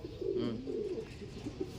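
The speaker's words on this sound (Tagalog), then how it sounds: "Nalakas lumipad ng mga ibon natin ngayon." Low, soft pigeon cooing rolls on continuously, close by, with a few faint flutters and rustles around it, including black pigeons.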